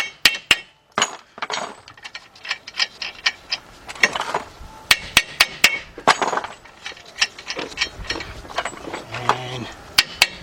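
Hammer blows on a steel nut on the front axle spindle of a 2011 Jeep Patriot 2.0, a run of sharp metallic strikes at uneven spacing, some loud and some lighter, with workshop clatter between.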